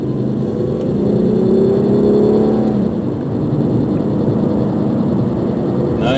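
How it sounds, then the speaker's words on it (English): A 2004 Buick Century V6 sedan accelerates, its engine a steady, loud rumble and whir that rises slightly in pitch before settling into a smooth drone, with no one talking. "Plenty of pickup with the V6."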